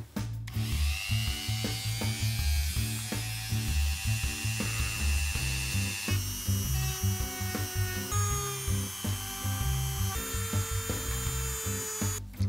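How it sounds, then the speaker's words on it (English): A Dremel rotary tool grinds away at the wing of a Warhammer Skarbrand miniature, a steady high whine broken into repeated short bursts with small pauses, close and alone. "So I'm just going to take a Dremel bit and Dremel out some of this stuff."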